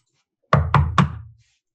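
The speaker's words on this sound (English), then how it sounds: "I knock." Three quick, solid knocks on a door, evenly spaced and close, each a dull resonant thump, heard alone in silence.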